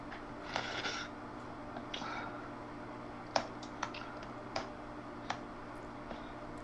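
Irregular clicks of typing on a computer keyboard sound close and fairly soft, coming in scattered bursts and single taps over a steady low background hum.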